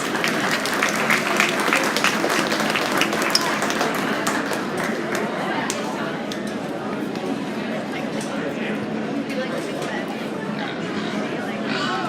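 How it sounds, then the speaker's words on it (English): Crowd at a livestock swine show arena claps for class winners, a long, even spread of applause with scattered sharp individual claps and background chatter, moderately distant in a large space. "Give them a nice round of applause."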